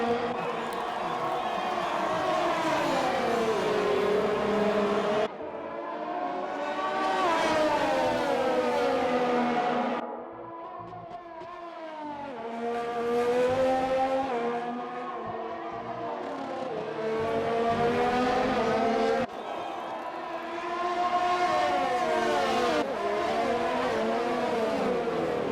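Race cars in a Japan round of an online racing league on Xbox One sweep through an S-turn, engines revving and shifting in rising and falling passes, loud and continuous with no talk.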